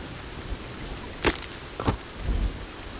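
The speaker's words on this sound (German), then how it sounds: "Ist nur halt doof, dass es jetzt gerade regnet." Steady rain hisses in the video game Sons of the Forest, a constant wash of noise with a couple of brief sharp bursts standing out, no talking.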